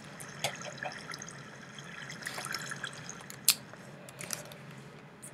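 Water in a Minecraft cave gives soft trickling and scattered drips with one sharper splash, quiet and close with no talk.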